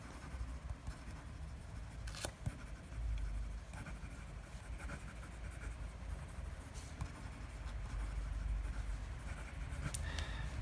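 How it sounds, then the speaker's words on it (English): Nib of a Pilot Custom 823 fountain pen scratching quickly across paper, a soft continuous scritching with a few sharper clicks and taps, close and quiet, no talking. "you're going to get a wonderful writing experience from this pen, just drawing it smoothly across the page"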